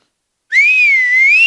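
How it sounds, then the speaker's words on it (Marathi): A woman whistles a single sustained, wavering melodic note, loud and close and alone, for about a second during a live comedy stage show. "बाई खरी शिट्टी वाजवते"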